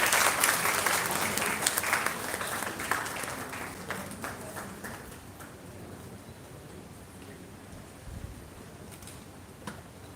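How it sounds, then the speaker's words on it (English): An audience at the Marketech-2023 national management and IT conference applauds its guests: loud, dense clapping at first that gradually thins and fades into scattered claps and room noise. "Can we please have a huge round of applause for all the guests?"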